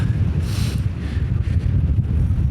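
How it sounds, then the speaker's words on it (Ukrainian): Strong wind on a mountain roars and buffets into the microphone, a dense continuous rumble with gusty surges and no voices. "Ой, дуже сильний вітер."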